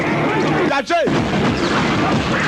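Dense, loud barrage of gunfire and booming blasts, continuous throughout, with a brief voice-like cry cutting through near the start.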